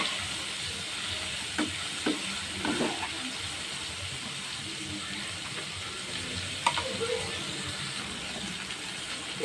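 Squid pieces deep-fry in hot oil with a soft, steady bubbling hiss, a few clinks and taps of a utensil scattered throughout, fairly quiet and close.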